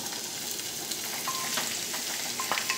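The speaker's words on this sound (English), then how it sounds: "So I'm going to go ahead, put all this in the skillet." Vegetables sautéing in a skillet, a steady close sizzle with faint scrapes of stirring running through it.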